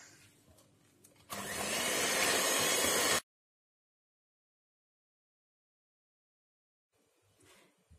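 Electric hand beater whirring through a thick mix of ghee, sugar and egg yolk for a Kerala bakery style ghee cake, a loud steady burst of about two seconds that cuts off abruptly into silence, with faint background noise before and after.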